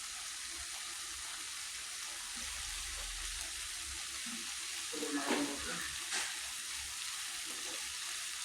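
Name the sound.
beef frying and sizzling in a pan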